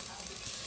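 Garlic dropped into hot oil in a cooking pot, giving a brief, steady hiss of frying.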